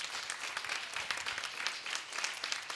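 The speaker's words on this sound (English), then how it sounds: "please, applause." An audience claps throughout at the closing of a food systems pavilion event, a moderately quiet, busy patter of many hands with scattered sharper claps and no speech.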